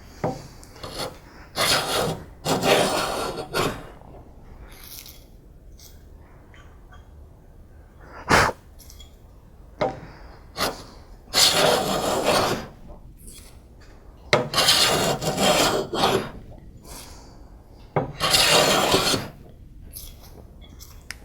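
A hand plane being set up on a wood edge takes shavings in irregular rasping passes, some short and some longer, with quiet pauses between strokes, close and fairly loud with no talking.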